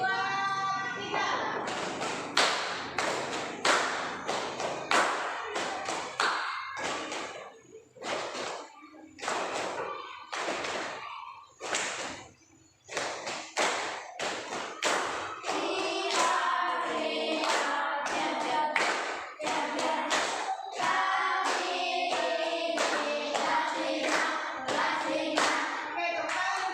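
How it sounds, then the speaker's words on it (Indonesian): A school class claps a rhythmic pattern together, sharp group hand claps in bursts with short pauses between, some children's voices and chanting mixed in, fairly close and loud. "Sekarang saya mau semua tepuk yang kemarin."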